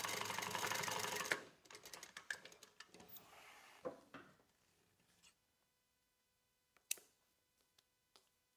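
Sewing machine top stitching a tablet sleeve onto a crossbody bag in a sewing workroom: a loud opening burst of rapid stitching, then shorter intermittent runs and clicks fading to a few isolated taps near the end.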